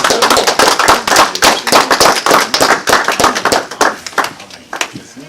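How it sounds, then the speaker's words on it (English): A church congregation clapping loudly in rapid, uneven bursts, many hands together, close and energetic, with a few voices mixed in. "Give somebody y'all hand clap praise."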